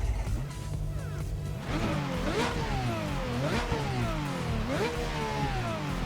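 An unrestricted GT3 race car engine fires up and revs hard several times, its pitch sweeping up and dropping back in repeated loud, close bursts.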